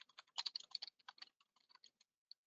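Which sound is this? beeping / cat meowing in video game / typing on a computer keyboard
typing on a computer keyboard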